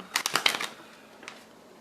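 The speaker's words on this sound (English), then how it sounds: "Let me shuffle this. I feel like I haven't used this deck in a while." Oracle cards riffled and shuffled by hand, a quick burst of papery flicks up close, then a single softer riffle before it fades.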